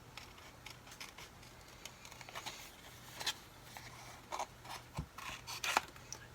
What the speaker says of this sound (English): Let's get our scissors out and fussy cut this bear out.